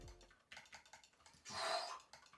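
Keystrokes on a plastic-bodied Vissel VD4 hot-swap mechanical keyboard, a quick run of close, light, slightly pingy clicks followed by a denser burst of rapid presses.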